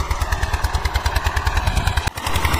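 An Eicher 242 tractor pulls a cultivator through a field, its diesel engine thumping in a fast, even rhythm close by. The sound dips briefly near the end.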